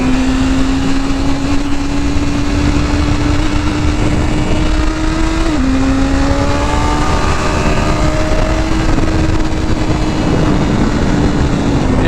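A BMW S1000RR superbike accelerates hard at high revs, a loud, close, steady engine whine that climbs in pitch, dips briefly at a gear change and keeps rising, with wind noise throughout.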